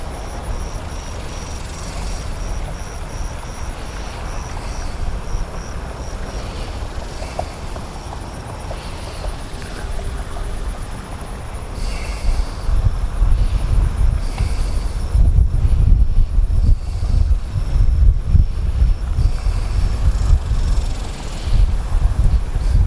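A steady whirring buzz of a DJI Mavic Air 2 drone hovering and flying a circle around a fountain, close to the microphone, with wind rumble growing louder in the second half.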